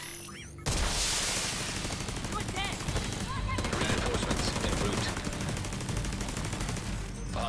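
A turret in a video game opens up with continuous rapid automatic fire, a dense loud stream of shots that runs steadily after a brief quiet start.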